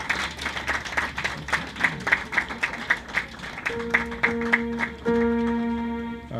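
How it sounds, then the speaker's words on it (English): Audience at a technical institute graduation ceremony applauding, steady scattered clapping of moderate loudness with sustained musical tones entering near the end. "and appreciated round of applause."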